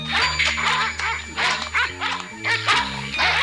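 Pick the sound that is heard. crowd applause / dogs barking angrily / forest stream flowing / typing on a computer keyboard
dogs barking angrily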